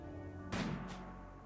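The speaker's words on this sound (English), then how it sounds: "Alright, looks like Sam is already taking pot shots at them" Gunfire from the video game RimWorld: two short, sharp shots about a third of a second apart, the first stronger, over a quiet steady background hum.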